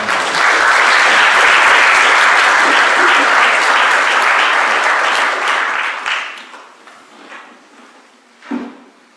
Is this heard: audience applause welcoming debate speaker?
yes